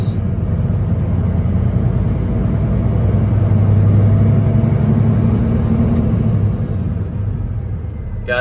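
A Detroit diesel in a 2014 Peterbilt 389 glider truck runs loud and close, a continuous deep rumble that swells gently in revs toward the middle and eases back off, with no talk over it.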